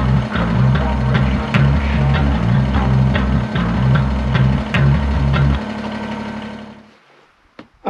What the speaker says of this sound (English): the snowblower is all set to go